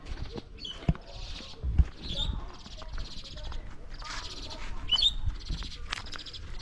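Small birds chirp in trees along a shaded rural village path, bursts of high twittering repeating every second or so at moderate distance, with light rustling and scattered ticks underneath.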